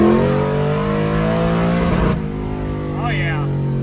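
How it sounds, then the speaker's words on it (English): A car with a Turbo 400 automatic transmission revs hard and pulls in first gear, engine note loud and close and rising steadily; a brief shift in tone partway through as a person's voice speaks briefly near the end. "rip it and see if it lets me hold first gear longer"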